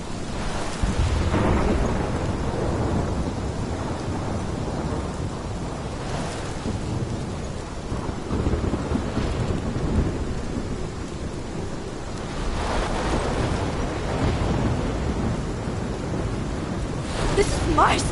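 A thunderstorm in the video game Life is Strange: steady heavy rain with low rumbling thunder swelling throughout, loud and continuous, with brighter crashes near the start and end and faint voices beneath.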